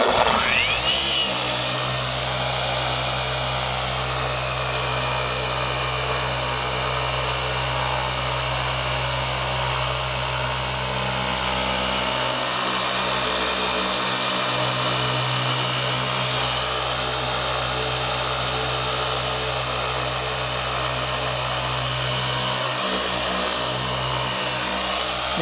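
A steady, loud machine whir drones without pause as a Rupes power sander works along the edges of car paint, with a constant hum and no speech.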